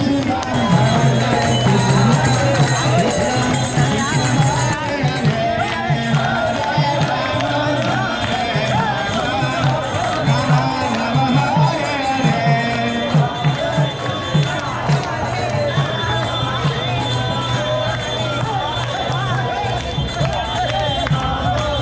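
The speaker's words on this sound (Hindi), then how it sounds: "तो यहाँ पर बहुत ज़्यादा भीड़ है" A large, dense crowd fills ISKCON's Krishna Balaram temple in Vrindavan the day before Janmashtami, with steady loud hubbub and babble, scattered shouts and cheers running throughout.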